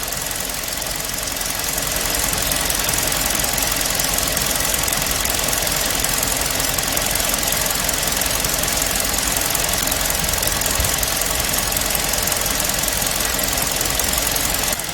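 A car engine restarted after three spark plugs were tampered with runs rough. It gives a loud, continuous knocking clatter with an uneven idle that stays up close for the whole stretch, with no talk.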